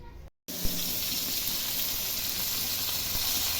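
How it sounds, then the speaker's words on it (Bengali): Water pours steadily into a cooking pot over a clay stove, a close, constant gushing splash that starts after a short silence and runs to the end. "আমার জালেকে একটুখানি পানি দিচ্ছে,"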